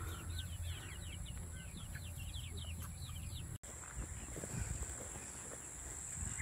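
Soft clucking from chickens drifts in from a distance over steady outdoor background noise and faint chirps.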